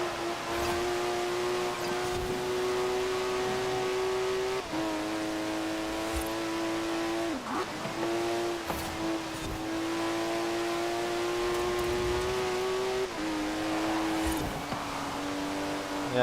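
A TVR sports car engine roars steadily throughout a race in Forza Horizon 4, its pitch climbing with each gear and dropping sharply at upshifts, loud and continuous with no talk.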